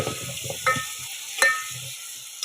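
Chillies tossed into a pan and frying for a village-style spicy dish, with a soft steady sizzle, a couple of sharp clinks of a spoon against the pan, and low stirring scrapes close by.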